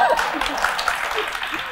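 Audience applause in a Vietnamese talk-show setting, a dense, steady wash of clapping carrying through the clip with voices heard over it.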